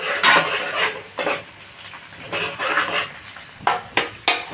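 Green chillies and garlic cloves fry in a pan, with bursts of sizzling hiss rising and falling as a spoon scrapes through them, ending in a few quick stirring strokes.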